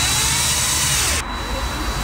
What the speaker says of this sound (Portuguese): agora vamos só lixar ali um bocadinho e tapar com a grelha